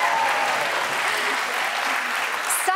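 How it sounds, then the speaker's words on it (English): Sustained applause from an awards ceremony audience, steady and dense throughout, with a brief voice faintly audible near the start. "I hope you can hear the applause here."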